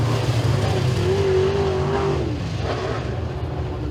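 Econo Mod race car at Eriez Speedway finishing a heat race out of turn 4, a steady loud engine drone with a rising and falling rev tone, crowd and track noise underneath.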